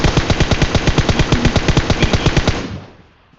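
Rapid automatic gunfire in the mobile battle royale game PUBG Mobile, a loud, close burst of evenly spaced shots lasting over two seconds before trailing off into fading echo.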